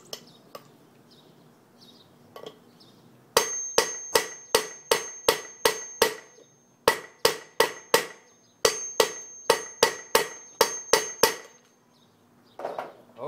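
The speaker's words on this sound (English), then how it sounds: "I'm going to give it a few whacks just to make sure." Rapid series of sharp metallic hammer whacks seating a bearing race on an Isuzu Vehicross, struck in quick bursts of several blows with short pauses, loud and close.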